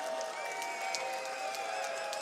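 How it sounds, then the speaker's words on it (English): Sioux City Bandits fans roar at a football game against the Rapid City Marshals, a steady crowd noise with scattered claps and cheers held at an even level the whole way through. "Bandits fans, the crowd coming to their feet. Trying to get loud"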